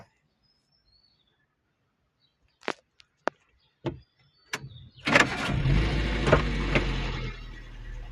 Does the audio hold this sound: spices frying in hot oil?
no